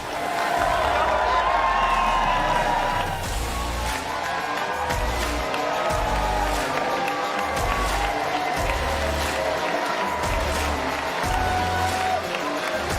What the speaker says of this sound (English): I think you got a very loud cheer.